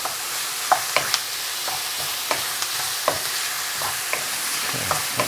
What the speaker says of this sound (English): maybe try to sear the other side too as much as you can